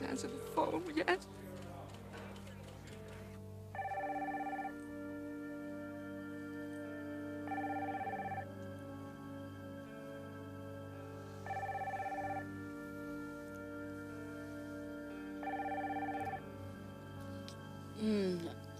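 A telephone bell rings in four evenly spaced bursts, clear and steady, in a quiet indoor scene from a 1990 television soap opera, with a voice speaking briefly at the start and end.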